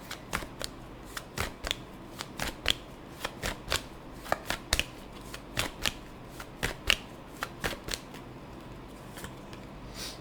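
Tarot cards being shuffled by hand, a brisk run of crisp riffling snaps and flicks at an uneven rhythm, close and fairly quiet, with no talking.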